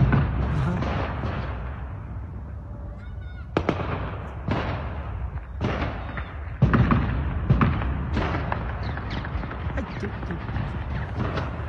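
Gunfire near intelligence service headquarters in Khartoum comes as a series of sharp, irregular cracks and bangs, some louder and closer, over constant background noise and murmuring voices.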